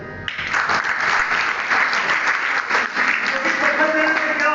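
Audience applause at a staged social-education play, a dense steady patter of many hands that starts abruptly and holds at an even, fairly loud level, with voices faintly mixed in.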